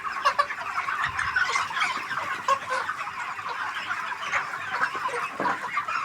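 Broiler chickens about 38 days old cluck and call steadily on a poultry farm, a dense flock chorus close by with no talk.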